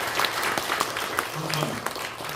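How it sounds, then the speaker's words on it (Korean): People applaud to welcome someone at the founding general assembly of an inter-Korean exchange and cooperation association in a press club hall, with moderate clapping mixed with a voice and room noise. "여러분 힘찬 박수로 끈끈 환영해 주시기 바랍니다"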